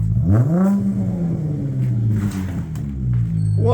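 Rear-muffler-deleted 3.6L V6 of a 2019 Dodge Challenger SXT revving hard, engine note climbing then holding a deep, raspy rumble before easing off, loud and close.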